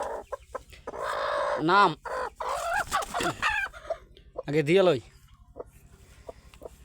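A hen clucks repeatedly nearby with loud drawn-out squawks, while someone talks over part of the sound.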